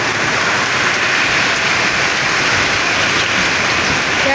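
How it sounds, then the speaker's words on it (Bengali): Steady heavy rain pours down outdoors, a loud, dense, unbroken hiss filling the whole stretch with no gaps or voices. "দেখুন কি বৃষ্টি"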